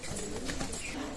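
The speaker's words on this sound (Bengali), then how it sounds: "দেখেন টেডি কবুতর" Teddy breed pigeons cooing, a short soft burst of low throaty coos close by, with no voices.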